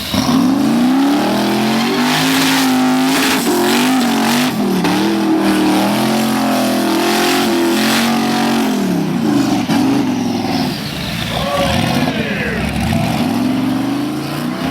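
A 1976 Chevrolet Chevette with a twin-turbo 5.3 LS V8, Powerglide transmission and 9-inch rear end revving loudly at an LS car festival, a continuous close engine roar with rising and falling pitch throughout.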